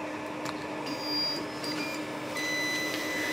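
Orcinus 3D printer running a high-speed move at 600 mm/s with 35K acceleration, giving a steady whirring motor drone with high-pitched stepper whines that shift in pitch as it changes direction, close and continuous, no talking.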